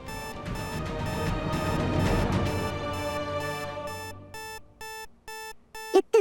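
A safe (vault) alarm rings through a house in a TV drama, starting within a noisy wash of sound and settling into loud, evenly pulsed electronic beeps near the end.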